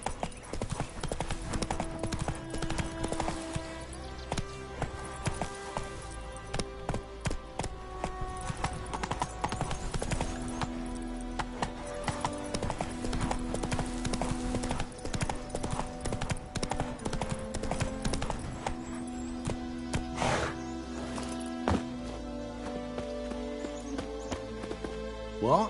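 Horse hooves clip-clopping at a fast, rhythmic gallop in the video game The Witcher 3, near and steady, with game music tones running underneath and a voice speaking briefly.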